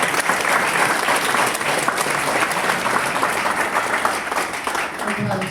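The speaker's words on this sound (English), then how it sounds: "Massive round of applause." Audience applause for a property expert panel at a Reading property investment event: dense, steady clapping from a crowd, loud and sustained throughout.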